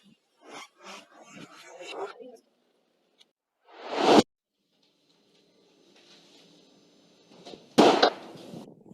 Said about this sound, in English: What was that? Sounded like a gunshot.